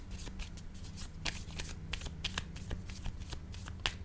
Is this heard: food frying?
no